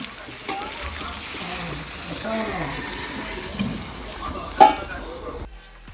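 Water goes into a crab curry cooking in a pan, giving a steady wet splashing and sizzling wash with a brief clatter near the end. Voices talk faintly underneath.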